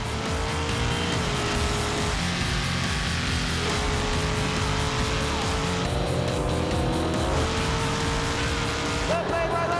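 Drag race cars roaring down the strip at Bandimere Speedway during a Pinks All Out event, a loud sustained engine howl with shifting pitch and a sharp change near the end, crowd and announcer noise folded underneath.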